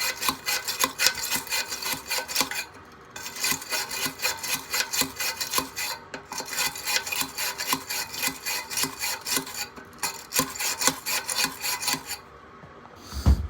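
Someone scrapes caked debris off the vanes of an HVAC blower wheel, making rapid, rhythmic rasping strokes that run in steady bursts with brief pauses between them.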